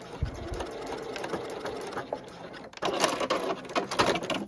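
A sewing machine runs continuously, stitching knife pleats into a garment, with a steady mechanical whir that grows louder and faster toward the end, close by with no speech.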